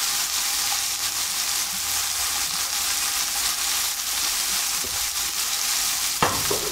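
Scallops searing in a hot frying pan, a bright, steady close-up sizzle that holds evenly throughout, ending with a short clink near the end.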